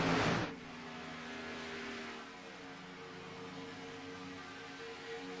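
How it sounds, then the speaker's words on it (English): Race cars in a racing video game at Daytona hum faintly in the distance, a steady low engine drone after a brief louder burst at the start, with no voices. "As we can hear some more cars in the distance."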